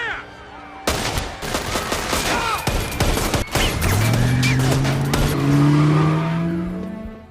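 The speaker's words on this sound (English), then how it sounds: "one of the police realized it and a gunfight between them broke out" Gunfire erupts in a police shootout in an action film, loud dense bursts of shots crackling through the clip, with a car engine revving and squealing in the latter half.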